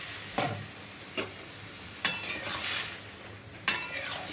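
Dal and water lily stems stirred in a frying pan, a continuous low sizzle broken by four sharp utensil scrapes against the pan at irregular intervals, close and moderately loud.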